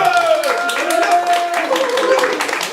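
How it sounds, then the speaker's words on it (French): Audience clapping breaks out at a French stand-up comedy show, a steady patter of applause with a raised voice carrying over it. "On peut applaudir dire Monsieur Pitch"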